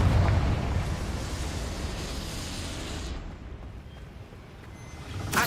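Confringo explosion spell in the video game Hogwarts Legacy, a heavy rumbling blast that bursts loud at the start and decays into a long roaring tail, with a fresh burst near the end.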